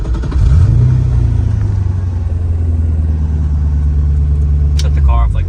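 A BMW E30 cranks over on its push-to-start button and settles into a steady, loud idle, a deep continuous engine rumble close by, with a brief higher rev flutter near the end.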